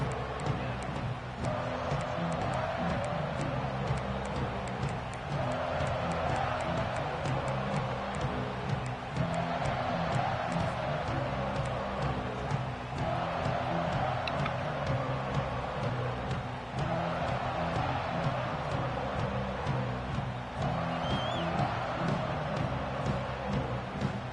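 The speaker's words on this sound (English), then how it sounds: "This crowd ready to make its presence known." A stadium crowd roars steadily at a Clemson vs Auburn college football game, a dense sustained wall of cheering with rhythmic swells and a broadcast announcer talking over it.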